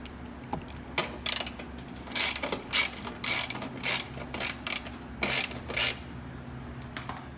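A ratchet wrench loosens bolts on a Polaris Slingshot bumper, giving bursts of rapid clicking ratchet strokes in a close, uneven rhythm over a low steady hum, with no talk.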